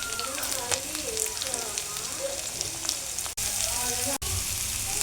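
Curry leaves and carrot fry in a pan with a continuous crackling sizzle, while a voice talks over it and two brief dropouts break the sound.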